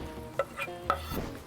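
Crawfish and butter on a Blackstone griddle give a soft, steady sizzle broken by a few light scraping and clinking touches, close but fairly quiet, no talk.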